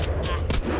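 Inside The Walking Zombie 2, a trap sets off a rapid burst of three quick gunshots within one second, heard against a constant game background.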